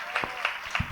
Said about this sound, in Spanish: Un aplauso para la ilustradora